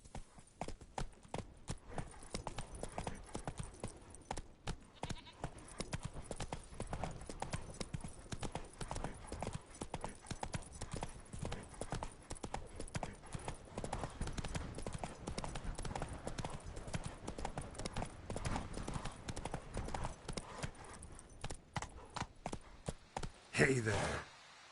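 Roach the horse trots in a video game, her hooves clip-clopping in a steady, rapid rhythm at close range for a long stretch, with a brief voice near the end.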